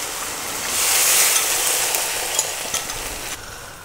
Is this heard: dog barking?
no